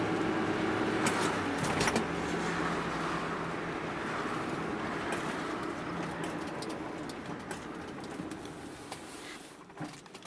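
An old Nissan Sentra drives along during a braking test, a steady road and engine rumble with interior rattles that gradually eases and quiets toward the end.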